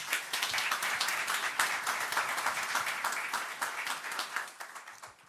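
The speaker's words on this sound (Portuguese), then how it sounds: "Então, uma salva de palmas para o Márcio." A municipal chamber audience gives a speaker a round of applause at an evening lecture session, dense close clapping that holds steady for about five seconds before thinning out at the end.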